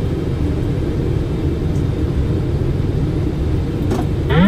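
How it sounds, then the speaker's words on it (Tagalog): A loud, steady, broadband roar of airplane engines fills the cabin during a landing approach, with a rising tonal whine joining near the end. "panoorin muna natin ang landing"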